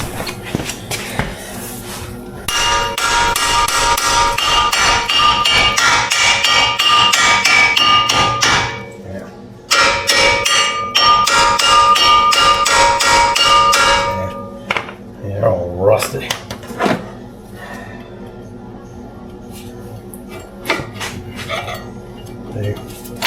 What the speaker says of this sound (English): Good old ball peen hammer.